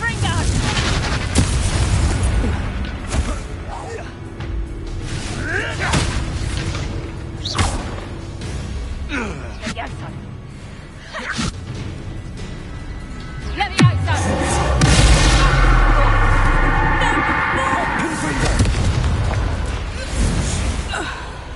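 Confringo blasting spell explosions in Hogwarts Legacy erupt as booming, rumbling blasts amid battle noise and spoken game dialogue, with a big burst near the end.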